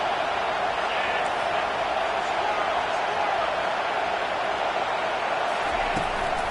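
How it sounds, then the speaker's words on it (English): Loud, sustained stadium crowd roar in a college football video game, Colorado at Texas, rising as the defense lines up; the steady wall of noise continues evenly without commentary. "Listen to this crowd just shaking the girders of this place, trying to help their defense."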